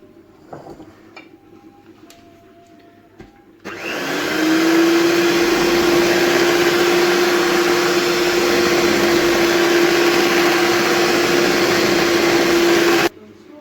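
An electric mixer whirs into cake batter as dry ingredients are added for a vanilla cake. A loud, steady motor hum starts abruptly after some quiet kitchen clatter, runs for about nine seconds, then cuts off.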